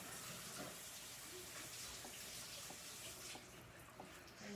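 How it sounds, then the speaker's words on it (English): Running tap water splashes over hands being rinsed at a kitchen sink while cooking salmon and grits, a steady broadband hiss that holds fairly level throughout with small shifts as the hands move, no voices present. "Rinse my hands off."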